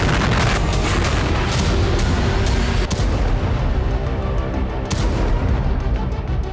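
Explosions from Russian army ground and air attacks in Ukraine rumble in a dense, continuous barrage of heavy booms and artillery-like blasts, with sharp cracks standing out at intervals.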